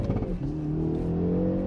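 A turbocharged four-cylinder in a 2019 hot hatch or sport compact (WRX, Veloster N or Golf GTI) pulls hard under acceleration, its engine note rising in pitch as the revs climb. The sound is loud, close and steady throughout, with no talking.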